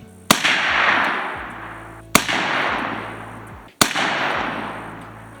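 Three sharp, loud AR-15 rifle shots fitted with an Oppressor muzzle device ring out alone, spaced about two seconds apart, each blast trailing into a long rolling echo.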